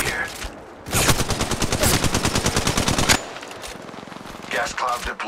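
Gunfire in Apex Legends: a rapid, evenly spaced burst of automatic shots runs loud and close for about two seconds, with fainter shots and a voice before and after.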